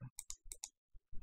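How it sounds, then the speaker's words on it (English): Keys tapped on a computer keyboard while entering GPU overclock settings for a watercooled Galax Hall of Fame RTX 2080 Ti, heard as a quick burst of about six crisp, close clicks followed by a couple of softer taps. "I usually like to type in here"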